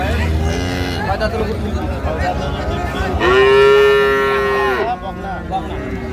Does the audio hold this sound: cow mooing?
yes